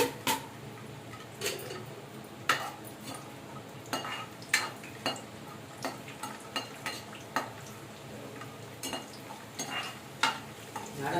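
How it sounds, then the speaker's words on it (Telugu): Garlic fries in a pan for a bitter gourd curry, with a low sizzle under repeated sharp scrapes and taps of a spoon against the pan at irregular intervals. The sound is close, and no one talks. "ఈ వెల్లుల్లిపాయలు అయితే ఇందులో వేసేసుకుందామండి"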